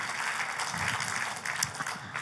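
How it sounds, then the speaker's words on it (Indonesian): A church congregation at an Indonesian worship service applauds, a dense, steady wash of many hands clapping that fills the whole moment without a break. "Tepuk tangannya bagi raja di atas segala raja."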